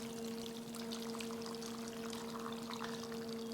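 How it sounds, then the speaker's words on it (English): About two quarts of beef broth pour steadily onto smoked oxtails in a braising pan, a continuous soft splashing stream over a low steady hum. "We're just gonna pour those right on in."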